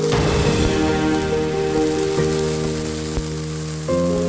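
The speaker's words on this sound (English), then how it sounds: "Sauté 6 cloves of diced garlic, diced onions, and diced parsley until translucent. Add 1 cup of diced tomatoes." Garlic, onions, parsley and diced tomatoes sauté in oil in a pan, giving a steady, close sizzle with a faint tonal hum underneath and no talking.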